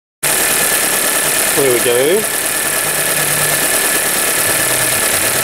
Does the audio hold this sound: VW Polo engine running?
yes